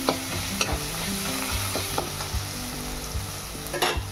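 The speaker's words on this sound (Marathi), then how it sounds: "आणि आता लगेच आपण टोमॅटो टाकू. तो पण छान परतून घेऊ." Chopped tomatoes sauté with onion and chilli in a pan while making a Maharashtrian ridge gourd (dodka) dish, giving a steady close sizzle broken by repeated scrapes and taps of a stirring spoon.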